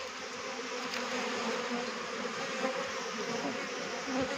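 Carnica Steppe honeybees swarm around their hives, a dense, steady buzzing drone that fills the air close by, with no voices.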